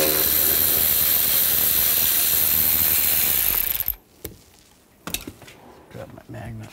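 Rapid ratchet clicking from a 10mm socket backing out bolts on the driver side door handle of a 2007-13 Chevy Avalanche, a continuous close buzz for about four seconds, then a few scattered metallic clinks.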